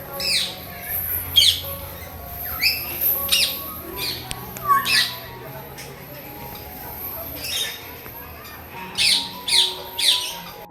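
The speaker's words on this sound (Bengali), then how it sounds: "কত সুন্দর পাখির ডাক" Birds in an aviary at Gazipur Safari Park give sharp squawks and chirps in irregular bursts, some near and loud, others fainter, over a soft background hum of the park.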